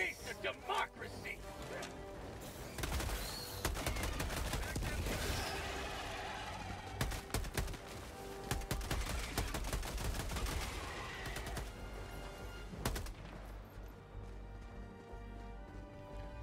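Video game Helldivers 2 gunfire rattles in dense, near-continuous bursts of close shots and impacts, loud and busy, with players talking over the action.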